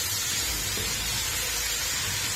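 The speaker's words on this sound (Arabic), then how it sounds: "بس كده خدت البصل تشويحة حلوة مع اللحمة كده" Onions and meat sautéing in a pot for kebab stew with vegetables, producing a loud, continuous close sizzle and steamy hiss with no break.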